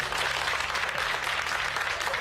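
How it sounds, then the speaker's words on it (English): Spontaneous applause breaks out in a courtroom, a dense, continuous patter of many hands clapping at moderate distance, steady for the whole short stretch. "the courtroom erupted into spontaneous applause"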